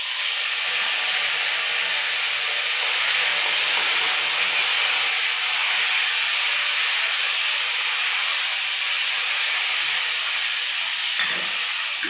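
Spice paste of ginger and cumin fries in a pan for a fish-head mung dal dish, giving a steady, loud broadband sizzle and hiss that runs unbroken throughout, with no talking.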